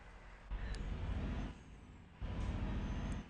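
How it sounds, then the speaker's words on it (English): Road traffic in the Euro Truck Simulator 2 video game, with trucks and cars rumbling past in two loud swells, a brief air-brake hiss and a low engine drone in between. "You can hear the sounds of traffic."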